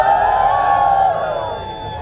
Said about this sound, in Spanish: Y ahora vamos a dar un fuerte grito de júbilo. Las hermanas.